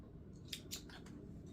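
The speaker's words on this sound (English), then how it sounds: "So what I'm gonna do is snip it," Scissors snip a stitch on a shirt, giving two quick, faint close cuts over a low steady background hum.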